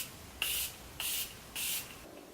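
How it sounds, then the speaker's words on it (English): Three short hissing sprays of Morphe setting spray onto a face from a pump mist bottle, evenly spaced with brief pauses between, close and fairly loud against a quiet room. "I'm gonna go ahead and spray my face with my favorite Morphe Setting Spray."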